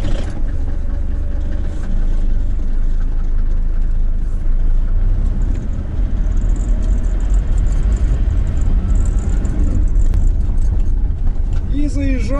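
A car drives along near the Belshina building with a continuous close engine hum and road rumble that stays at an even level throughout.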